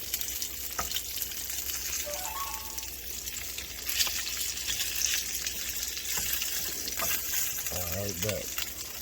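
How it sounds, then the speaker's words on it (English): Bacon frying in a pan, a steady crackling sizzle running throughout with a few clinks of utensils and brief indistinct voice sounds near the end. "Flip that bacon"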